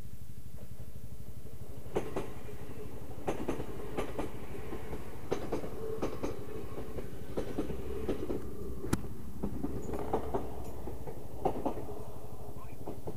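A train rolls past steadily, its wheels clicking over rail joints in an irregular rhythm of sharp clacks over a low rumble, heard from nearby with no talk.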